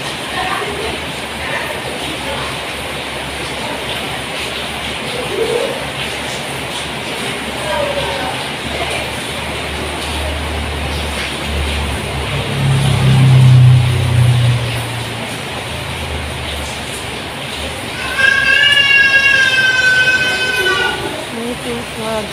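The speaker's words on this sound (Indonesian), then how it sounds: "hujan jadi bising" Heavy rain pours down as a steady, loud, continuous hiss that fills the whole stretch, swelling slightly midway and again near the end, where a brief high tonal squeal cuts through.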